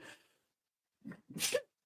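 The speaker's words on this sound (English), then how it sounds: "I'm going to sneeze." A single person's sneeze during a relaxed podcast-style conversation: a short breathy intake, a brief pause, then one loud, sharp, close burst, with no talk over it.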